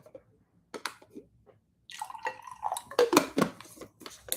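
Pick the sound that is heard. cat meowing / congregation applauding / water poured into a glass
water poured into a glass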